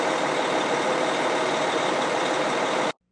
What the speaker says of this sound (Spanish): quedaron varados automóviles, autobuses, camiones de carga